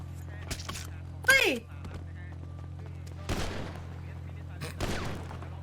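Gunfire rings out in GTA V, with three separate bursts of shots spaced a couple of seconds apart. Between the bursts there is a low, steady hum, and voices can be heard speaking.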